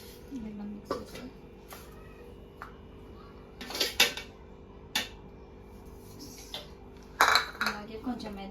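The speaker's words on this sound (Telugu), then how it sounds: "ఇప్పుడు బెల్లం పట్టుకుందాం. బెల్లం మిక్స్ చేస్తాం." Jaggery is mixed into a sesame laddu mixture in a pan, with scattered metallic clinks and scrapes of a spoon against the pan in irregular bursts, near and fairly loud, alongside intermittent talk.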